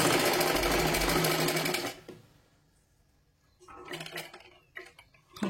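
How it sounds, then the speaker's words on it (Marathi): A sewing machine stitches a size 32 princess blouse in a steady, loud whirring run that stops abruptly, followed by quieter clicks and handling sounds. "पहा इथून शिलाई मारायची आहे पूर्ण."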